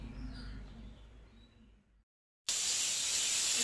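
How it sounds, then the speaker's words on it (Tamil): A pressure cooker whistle bursts in loudly after a brief silence, a sharp, steady, hissing shriek of escaping steam that holds to the end, while cooking kushka rice. "இப்போ 3 விசில் வந்துருச்சு."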